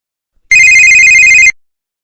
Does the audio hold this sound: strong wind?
no